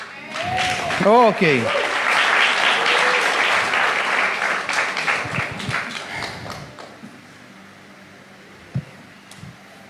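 A church congregation applauds during a sermon, a burst of clapping under a brief spoken word that thins into scattered claps and fades to quiet.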